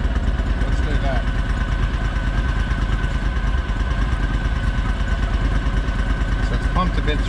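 A new Argo 8x8 amphibious vehicle's engine idles steadily up close while the oil level is checked, a constant low mechanical drone with light clatter and no change in pace throughout.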